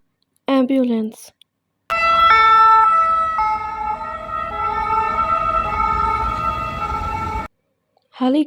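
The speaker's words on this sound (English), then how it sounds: "ambulance," An ambulance siren sounds a loud two-tone hi-lo pattern, alternating steadily for about five seconds, with a voice speaking briefly before and after it.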